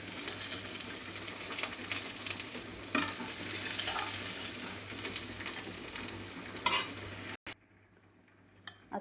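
Masala and mixed vegetables are stirred in a pan, a steady sizzle with scraping strokes of a spoon against the metal, fairly close, and the cooking sound cuts off near the end.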